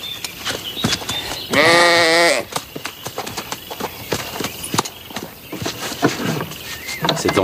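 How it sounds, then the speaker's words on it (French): A sheep bleats once, loud and close, among hoof clops and general farm noise; no talking over it. "Tu gardes les moutons?"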